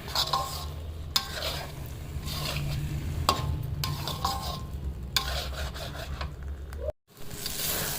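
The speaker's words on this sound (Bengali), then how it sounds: "খুব ভালো করে মিশিয়ে নেব" A spoon stirs a thick pea dal mixture in a pan, scraping and rubbing in repeated strokes over a soft sizzle, with one brief silent break near the end.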